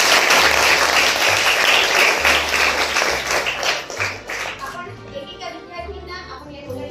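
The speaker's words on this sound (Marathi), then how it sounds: "यांच्यासाठी इतर जोरदार टाळ्या द्या।" A classroom crowd applauds the girl students taking part in the day's activity: loud, dense clapping for about four seconds that then thins and fades as a tonal sound takes over.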